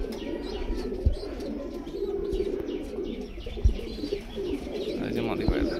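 A flock of domestic Kasuri pigeons, among them a hen, coo in a loft in Krishnagar, Nadia: a steady, close, overlapping throaty warble with a few sharp knocks and faint chirps, and voices murmuring in the background.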